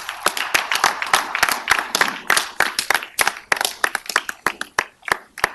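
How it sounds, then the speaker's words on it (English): An audience at a Memphis city council meeting claps for a street-naming resolution honoring an Olympian, a lively burst of sharp, distinct handclaps from a modest group, close and clear, running for several seconds with no talk over it. "absolutely give a round of applause"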